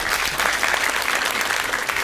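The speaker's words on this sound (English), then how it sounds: "Somebody was applauding." An audience applauds at a film premiere Q&A, a dense, steady wash of clapping hands that fills the room evenly for a couple of seconds with no voices on top.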